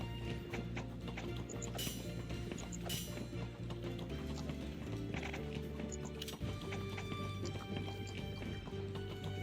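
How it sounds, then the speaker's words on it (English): Horse hooves clip-clop at a gallop in the Steam Prison video game, a steady drumming rhythm mixed with occasional neighs over constant game music, with no talk. "Sometimes the horse is too fast."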